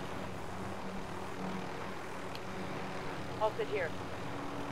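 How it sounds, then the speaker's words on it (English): Helicopter in Call of Duty Warzone giving off a steady, fairly quiet low engine drone, heard under people talking. "I'll take you guys with the chopper."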